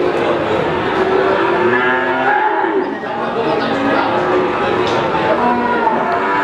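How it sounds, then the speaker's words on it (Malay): Limousin cattle moo at the Wage cattle market in Pati, deep drawn-out calls sounding close amid a busy market murmur, with people talking nearby. "Ada sapi bacon limusin."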